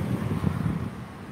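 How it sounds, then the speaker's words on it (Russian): Wind gusts across an open dusty area as a storm eases, a low steady rumble buffeting the microphone throughout with no other sounds. "ветер отчасти притих. Хоть он и пока дует"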